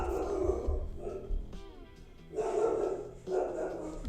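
A dog indoors barks several times in short, loud bursts with brief pauses between them, heard close by.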